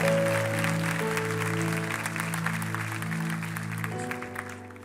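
A church congregation applauds steadily during a sermon, a sustained wash of clapping beneath a held, droning organ or keyboard chord, gradually thinning toward the end.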